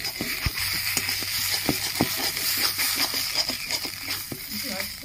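Ridge gourd paste fries in a pan with a steady, close sizzle and occasional soft stirring scrapes, continuing evenly throughout.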